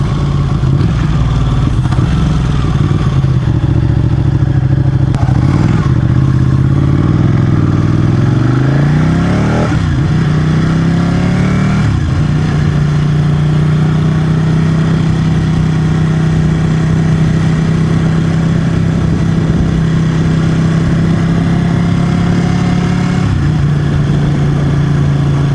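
Motorcycle engine heard while riding on a road, loud and continuous, with the pitch rising and dropping through several gear changes and revs before settling into a steady drone.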